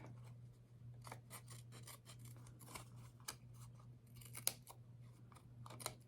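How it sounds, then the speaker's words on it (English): Snips cutting through material, a quiet close run of repeated crisp snipping clicks in irregular bursts over a low steady hum, no speech. "I'll just use my snips to cut that off."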